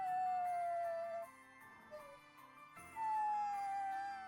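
A dog in the video game Bravely Default II whimpers and howls, two long sustained plaintive howls close up separated by a brief softer whine, set over a quiet melodic background.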